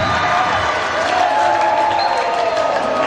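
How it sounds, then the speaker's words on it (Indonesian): An audience applauds the guest speaker at a seminar on preventing narcotics abuse: dense, steady clapping that fills the whole stretch at an even level, with some faint crowd murmur underneath. "kita berikan tepuk tangan yang sekeras-kerasnya untuk narasumber kita"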